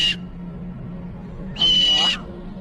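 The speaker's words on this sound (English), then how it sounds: "Look at the screams, the high-pitched screams." A parrot lets out two shrill, high-pitched screams, one very short and then a longer sustained shriek, loud and close over a faint low hum.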